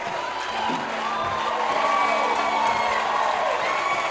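A church congregation cheers and shouts in praise of the Lord, a steady roar of many voices with whoops rising throughout, loud and continuous.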